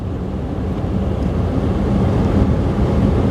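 Air rushes steadily from the dash vents of a 1999 Ford E150 van with its AC system on, a continuous, fairly loud low whoosh that swells slightly and holds with no speech.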